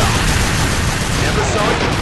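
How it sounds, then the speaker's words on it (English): Sustained heavy gunfire in Unreal Tournament 3 on PlayStation 3, a dense, continuous loud barrage of shots and booms with no pauses, filling the whole stretch. "We're taking heavy fire."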